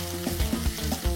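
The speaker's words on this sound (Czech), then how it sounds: "Vezmu si nakrájenou cukletu a lelek a do té rozpálené pánve to tam dám." Sliced zucchini and eggplant hit a hot oiled pan, giving a steady loud sizzle with a few stirring bumps.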